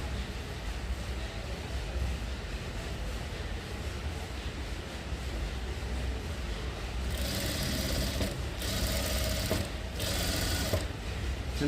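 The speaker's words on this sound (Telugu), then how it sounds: "ఈ బాటంలోనూ స్టిచ్ చేసుకోండి కినారి." A sewing machine stitches border trim onto the bottom of a sleeveless blouse with a steady, close mechanical whir. Sharper bursts of stitching come toward the end.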